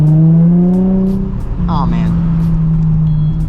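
A Nissan 350Z sports car engine drones loudly from close by, its pitch sliding down then holding a steady hum, while someone speaks briefly over it.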